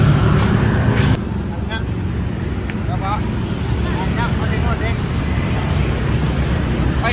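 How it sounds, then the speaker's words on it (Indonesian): Motorcycles and other traffic roll along a busy street in Kisaran, a steady loud engine rumble that swells and fades as vehicles pass close by, with faint voices underneath. "Ini sedikit berisik, guys, ada motor-motor"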